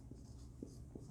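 A pen writes on paper during a class 10 physics lesson, giving faint soft scratching with three short strokes over about a second behind a low steady hum.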